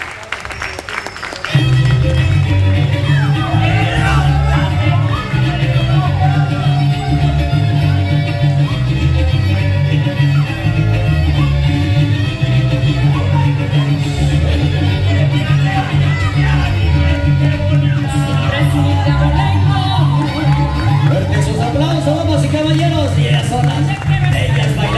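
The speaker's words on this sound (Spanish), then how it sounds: "Fuerte los aplausos, damas y caballeros" Audience applause and cheering for a San Luis Potosí folk dance group, starting abruptly and holding steady and loud throughout, dense and close, with a strong low rumble and scattered shouts mixed in.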